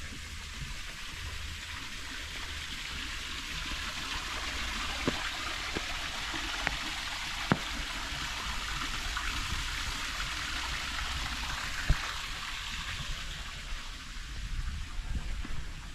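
Dammed river water flows steadily over the Penapen weir in Kesugihan, Cilacap, making a continuous broad rushing wash, with a few faint clicks scattered through it, no speech.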